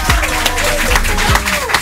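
Audience in a French radio studio applauding two performers, Victor and Vanda: a steady wash of clapping for about two seconds, with some voices mixed in.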